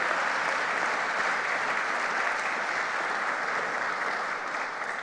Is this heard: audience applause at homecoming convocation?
yes